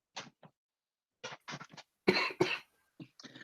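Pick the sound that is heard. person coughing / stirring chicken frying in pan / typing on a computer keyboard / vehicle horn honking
person coughing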